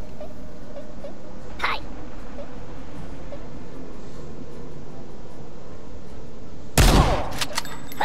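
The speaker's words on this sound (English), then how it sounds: "Shotgun shots." Shotgun blasts in the Worms W.M.D artillery game, with a brief sharp crack early on and a louder, heavier blast with a short tail near the end over a steady background hum.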